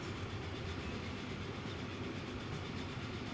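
A train runs on rails in the Transport Fever 2 video game. It gives a continuous low rumble with faint rhythmic clatter, steady and moderately distant, with no talking.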